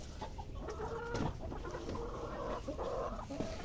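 Farm chickens clucking at feeding time, several birds giving repeated close clucks and short squawks over a constant low background, with no talking.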